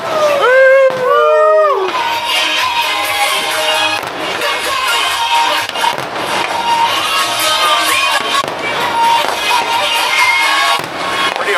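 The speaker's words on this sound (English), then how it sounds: "Pretty awesome fireworks in the DR today." Fireworks burst in the Dominican Republic, opening with a couple of whistling shells that rise and fall, followed by continuous crackling and booms. A cheering crowd fills the background throughout.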